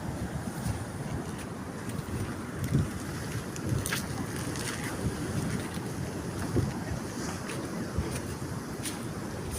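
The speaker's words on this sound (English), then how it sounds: "When the storm is coming through, the waves are really pounding these rocks hard." Waves from a passing storm pound the rocks at Umdloti Beach in South Africa, making a continuous heavy roar of surf mixed with strong wind buffeting the microphone.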